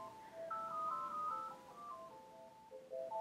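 A phone ringtone plays a short repeating electronic melody of bright beeping tones, fairly faint and unaccompanied, with no voices over it.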